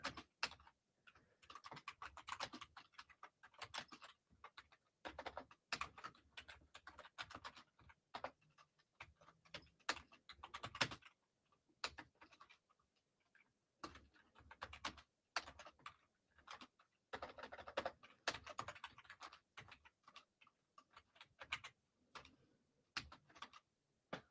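Someone types quickly on a computer keyboard, the keys clicking in irregular bursts and pauses, quiet and close.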